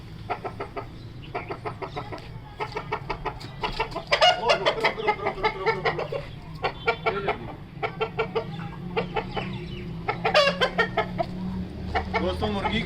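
Aseel chickens, a hen and rooster, cluck in repeated bursts of short, rhythmic calls, some rising louder mid-way, close by over a low background hum, with faint voices underneath.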